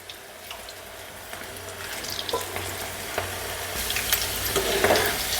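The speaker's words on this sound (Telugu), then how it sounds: "ఇప్పుడైతే బెండకాయ పకోడా వేసేసుకుందామండి ముద్దలా కాకుండా ఒక్కొక్కటిగా వేసుకుంటే బాగుంటుందండి" Okra pakoda fritters fry in hot oil with a soft, steady sizzle that grows louder toward the end, punctuated by a few light clicks and scrapes, close by and without speech.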